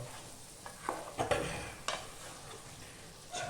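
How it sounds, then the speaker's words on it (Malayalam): Chicken pieces being stirred in sizzling ghee in a pan while a coconut chicken curry cooks, with a steady close frying hiss and several scraping, clinking strokes of the spoon. "നെയ്യ് എല്ലാ ചിക്കൻ പീസുകളിലേക്കും എത്തണം അതിനുവേണ്ടി ഒന്ന് ഇളക്കുക"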